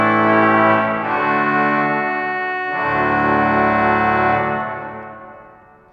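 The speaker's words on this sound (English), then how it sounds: "The big high-pressure orchestral trumpet sounds like this, and this is on 10-inch" Sustained chords from a Harrison organ's high-pressure orchestral trumpet stop on 10-inch wind, loud and brassy with a rich harmonic tone, changing chord partway through, then releasing and fading out.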